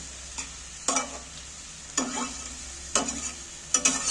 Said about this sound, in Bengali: আমি এইটা তেলের মধ্যে নাড়াচাড়া করে